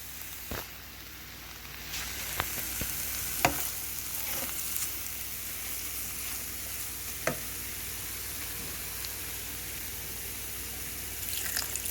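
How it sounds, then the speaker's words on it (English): Butter gets stirred into a hot pan before vegetable broth goes in, a soft steady sizzle with a few sharp clinks of a utensil against the pan, fairly quiet and close. "I'm going to add that in right now and stir it in before I add the vegetable broth"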